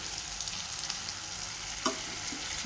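A red-hot tadka of spices sizzles in a pan for Punjabi saag, a steady close frying hiss with a single sharp crackle burst near the end; no one speaks.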